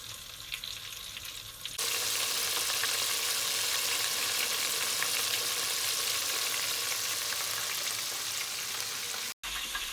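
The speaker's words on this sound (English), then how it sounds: "it's been frying away for 3-4 minutes" Loud, steady sizzling and crackling of chicken deep frying in hot oil, starting after a quieter moment and continuing evenly, briefly cutting out near the end.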